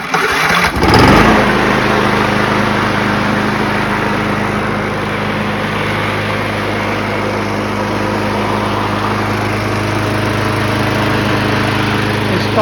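A small lawnmower engine is cranked by a battery and fires on the first try, then settles into a loud, steady, close-up running drone that holds for over ten seconds.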